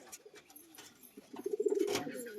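Pigeons give soft, low cooing calls, a short rolling series building louder toward the end, close by, with faint background noise.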